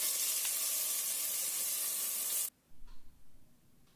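A ground paste is added to hot Dalda vanaspati oil for a biriyani masala, giving a loud, close, harsh sizzle that stops abruptly partway through and is followed by a few faint soft handling sounds.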